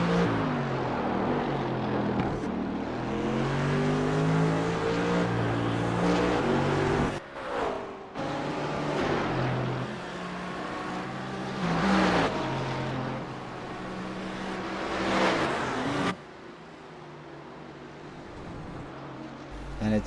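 Audi GT3 race cars battle on the Belle Isle street circuit in a sim racing game. Their engines rise and fall in pitch as they accelerate and shift gears, and a race commentator talks over the engine noise.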